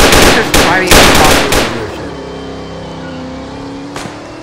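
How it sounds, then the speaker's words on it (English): A burst of rapid, loud gunfire from a shooting video game fills the opening seconds and then cuts off, leaving a low ringing tail and one faint later shot. "fire the gun"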